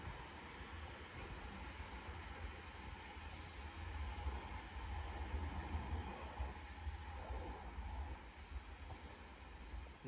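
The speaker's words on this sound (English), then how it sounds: "Passing there is 444017 on the service down to Weymouth." Class 444 electric passenger train 444017 passing through Moreton on the South Western Main Line toward Weymouth, a sustained rushing roar with rail hiss that swells and holds throughout.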